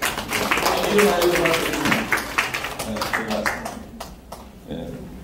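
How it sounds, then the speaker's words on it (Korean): Congregation at a church worship service clapping for the pastor's family and children, a dense burst of applause that tapers off toward the end, with voices talking over it. "박수 한번 쳐주시죠"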